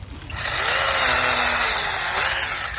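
A battery-powered mini handheld chainsaw cuts through wood, its high-pitched motor whine rising quickly and holding a loud, steady buzz close to the listener, easing slightly near the end.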